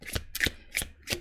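Tarot cards being shuffled and drawn, four crisp riffling bursts in an even rhythm, close and fairly quiet with no talk.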